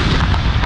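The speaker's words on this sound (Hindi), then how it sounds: "दिन का आगाज 21 तोपों की सलामी से हुआ।" A cannon of a 21-gun salute fires at a Youm-e-Tashakur celebration, heard as one brief, loud, rumbling boom with no voices.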